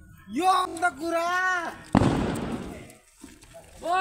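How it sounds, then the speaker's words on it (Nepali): A sutli bomb firecracker bursts once with a loud, sharp blast during a Tihar (Dipawali) celebration. Its rumbling crackle fades over about a second, following a voice speaking nearby. "यो चाहिँ सुत्री बम पड्क्यो पड्क्यो"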